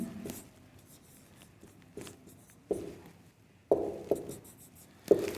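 Handwriting on a board or paper, soft scratchy strokes and a few sharper taps in short bursts separated by pauses, close and fairly quiet with no voice.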